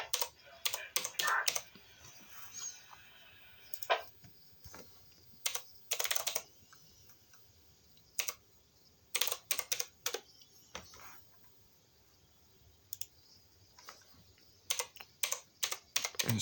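Computer keyboard typing in short bursts of rapid clicks separated by quiet pauses, close to the microphone in a quiet room.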